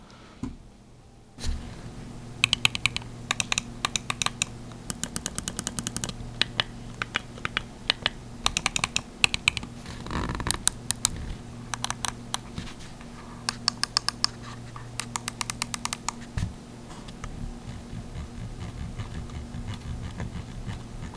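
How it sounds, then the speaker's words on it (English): Rapid bursts of sharp plastic button clicks from a Corsair Nightsabre wireless gaming mouse, close up, in quick irregular clusters over a low steady background hum. "let's make a sound test regarding the click of the buttons"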